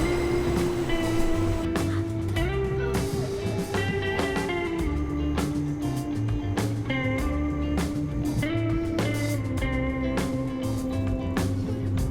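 Steady rumble of a moving train carriage with clattering rail noise and repeated high squeals or tonal whines throughout, continuous and fairly loud, with no one speaking.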